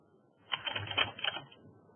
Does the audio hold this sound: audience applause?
no